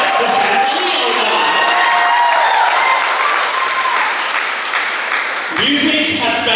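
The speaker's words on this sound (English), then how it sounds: "let's give a round of applause to our salutatorian, Mr. Preston Vicente" A large graduation crowd applauds the salutatorian, dense steady clapping with scattered cheers and whoops throughout, lasting several seconds before a voice begins speaking over the fading applause.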